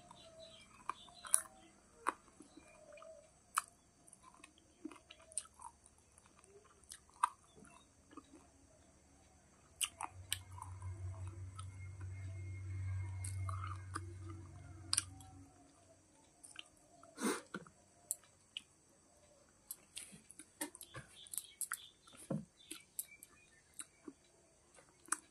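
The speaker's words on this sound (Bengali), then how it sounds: "মাছ খাওয়ার পরে এই যে কাঁটাটা খাই" Fish bones are chewed after a meal, giving sparse, close crunches and clicks with quiet gaps, plus a softer, longer stretch of munching partway through.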